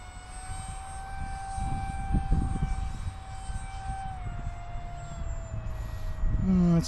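An Eclipson Inferno RC model jet makes a pass overhead with a steady, sustained high-pitched engine whine whose tone drops slightly as it goes by, over wind rumble and faint background talk.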